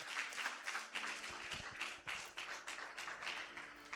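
A church congregation applauds, a faint, distant, steady patter of many hands clapping that runs continuously under the room's ambience.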